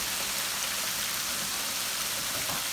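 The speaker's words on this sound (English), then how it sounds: "Let me rinse this spoon off" Tap water runs steadily over a spoon being rinsed after stirring a cornstarch mixture, a constant broadband splashing hiss close by, with no talking.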